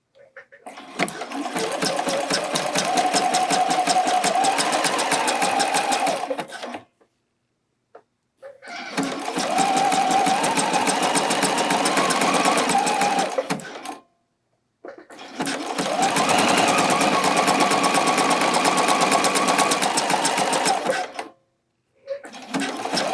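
A domestic sewing machine runs a regular zigzag stitch attaching slightly stretched elastic on a bralette, sounding in three long, steady bursts of several seconds each, separated by short silent pauses.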